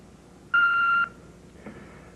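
An answering machine beep sounds once, a clean steady electronic tone lasting about half a second, followed by a faint click and near silence before a caller's message.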